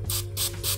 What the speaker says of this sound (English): I'm just going to spray some onto the rag to start with